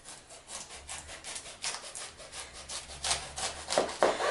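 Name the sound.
knife slicing cauliflower into steaks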